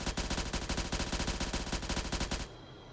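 Rapid automatic gunfire in ArmA 3, a fast, evenly spaced burst of loud cracks aimed at an MRAP, running for over two seconds before stopping abruptly into quiet.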